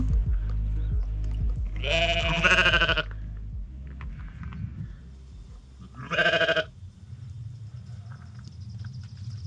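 A sheep bleats loudly twice on a mountain, a long wavering call followed by a shorter one a few seconds later, over low rustling background noise.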